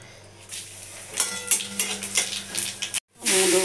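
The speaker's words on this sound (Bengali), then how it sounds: "তেল গরম হয়ে গেছে, কালো জিরা শুকনো লঙ্কা ফোড়ন দেবো" Nigella seeds and dried red chillies dropped into hot oil, a burst of crackling sizzle with spoon scrapes and metallic clinks, a brief cutoff, then a loud renewed sizzle.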